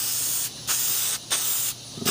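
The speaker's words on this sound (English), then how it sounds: "You got to kind of spray it from a distance." Spray paint misted from a distance in three long, even hissing bursts with short pauses between them, close and fairly loud.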